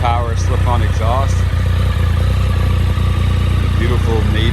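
A 2011 Triumph Sprint GT 1050 motorcycle fitted with a Scorpion red power slip-on exhaust idles with a steady, loud low rumble, while a voice speaks over the engine.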